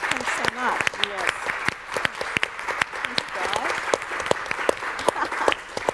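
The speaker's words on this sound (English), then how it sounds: "And a big round of applause because Deborah has just accepted the role of Indigenous Creative Chair to the MSO." Audience applause at a music event for women in music, a dense steady wash of clapping with sharp individual claps standing out, a few voices audible in the crowd throughout.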